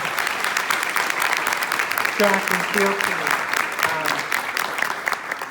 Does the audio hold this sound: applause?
yes